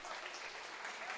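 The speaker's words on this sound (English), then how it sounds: "But everybody's clapping" Crowd clapping in a gym at a North Dakota girls high school basketball game, a steady wash of many hands held for a moment, fairly faint and distant with murmuring voices mixed in.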